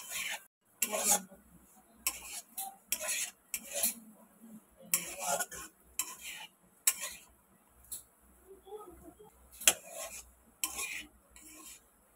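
Chow mein with mutton fat stirred in a pan: intermittent metal utensil scrapes and clinks come in short, irregular strokes over a quiet background, with no sizzle evident.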